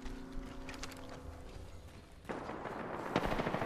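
Gunfire in a multiplayer shooter video game, a loose run of sharp shots rattling through a dense, noisy mix, growing louder and busier in the second half with no speech.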